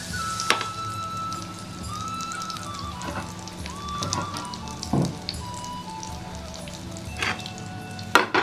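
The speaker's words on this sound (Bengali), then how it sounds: "একটা করে আমি তেলে ছাড়ছি" Chicken pakoras fry in hot oil, a steady close sizzle with scattered crackles and pops as pieces are dropped in one at a time.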